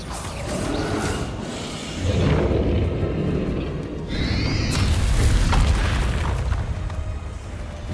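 Bombarda blasting spell explosion in the video game Hogwarts Legacy, heavy booming blasts with deep rumble and a swooshing whine, layered with battle noise and a voice speaking partway through.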